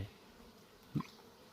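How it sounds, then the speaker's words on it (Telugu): Faint buzzing of flies and honeybees hums quietly in the background of an otherwise calm outdoor hill scene, with one brief low thump partway through. "ఇక్కడ ఈగలు అయితే ఉన్నాయి చాలా ఉన్నాయి తేనెటీగలు"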